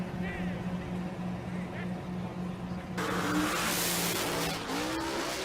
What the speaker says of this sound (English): car smoked the tires early. Got sideways at this end of the racetrack, and he was out of the throttle